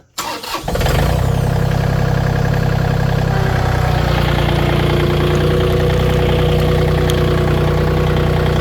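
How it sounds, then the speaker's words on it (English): A farm tractor engine starts up and settles into a loud, steady running rumble close by, with a deep low throb throughout. "this is a tractor that's about to make some noise."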